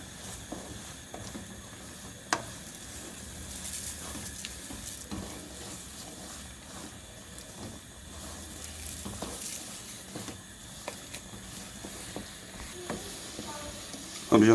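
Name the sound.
stirring peanut chikki mixture in pan while adding oil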